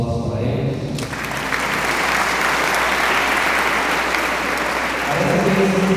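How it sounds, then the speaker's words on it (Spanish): An audience applauds at a diploma ceremony. After a brief voice, a dense, loud burst of clapping starts about a second in and holds steady to the end. "Aplausos para ellos."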